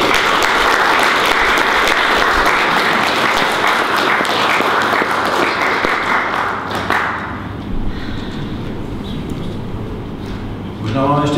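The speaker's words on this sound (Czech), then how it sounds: "Takže poprosím ještě o potlesk i pro ně." Audience applause at a Prague meeting of people in housing need, loud, dense clapping from a crowded room that fades into scattered claps and room murmur after several seconds.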